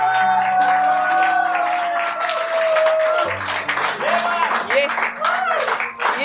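An audience applauds at a Hindi poetry recital, scattered clapping rising over a background melody while a voice speaks over it, moderately close.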